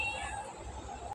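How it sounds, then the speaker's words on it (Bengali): A cat gives a short, faint, sustained meow up close, a single call lasting about a second before cutting off abruptly. "মিয়াও"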